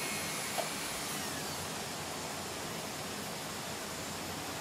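A rotary tool stipples a wooden recurve bow riser at 5,000 RPM, giving a steady, even whirring hiss that runs unbroken and close throughout.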